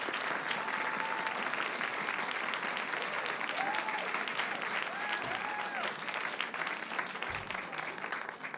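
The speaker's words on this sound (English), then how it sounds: "Let's give her a round of applause." Steady applause fills the room at a school board meeting, a continuous crowd clapping with faint voices and a few whoops scattered through it.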